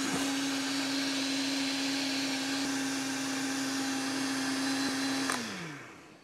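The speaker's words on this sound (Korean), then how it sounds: "마찬가지로 사정없이 갈아주시면 돼요" Blender grinding a chili and chocolate sauce, a steady loud motor hum running for several seconds before the motor cuts off and winds down.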